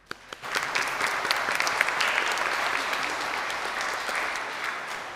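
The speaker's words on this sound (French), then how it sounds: "T'applaudis." Congregation clapping during a Catholic Mass, a sustained dense patter of many hands in a resonant church, starting with a few scattered claps before swelling into steady applause for over five seconds.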